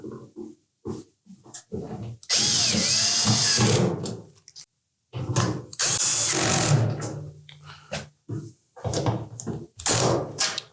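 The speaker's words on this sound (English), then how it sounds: "Now we'll put the remainder of those screws in place." A power drill drives screws into a Samsung dryer while the drum roller is being installed. Two long, loud whirring bursts stand out among shorter clicks, knocks and handling noises close by.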